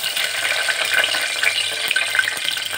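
Whole spices and chopped onion sizzle steadily in hot oil for mutton biryani, a close, dense frying hiss with small crackles and no talk.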